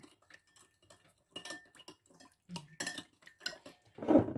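A metal spoon scrapes and clinks around a pan while sugar, salt and spices are stirred together, with scattered light taps building to a louder clatter at the end, close and otherwise quiet.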